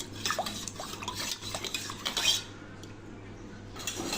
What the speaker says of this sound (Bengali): শরবতটা গুলানো হয়ে গেছে।